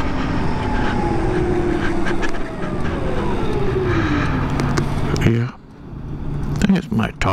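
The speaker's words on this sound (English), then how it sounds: "Yeah, the tires are the ones that make noise." A 2012 Zero DS electric motorcycle rides along with a steady roar of tire and road noise, a gliding electric whine and wind buffeting, easing briefly as it slows; someone talks over it.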